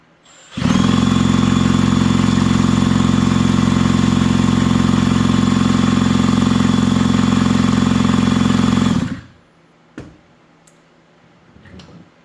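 A small motorized bicycle engine with a KTM magnet ignition roars loudly and steadily for about eight seconds, then cuts off abruptly, leaving a few faint clicks in near silence.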